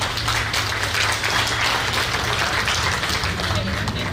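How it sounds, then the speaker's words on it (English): An audience at a 21st birthday celebration applauds for Auntie Kirsten, a steady dense wash of clapping that holds evenly at moderate loudness across the whole stretch without pause. "Can we give her a round of applause, please?"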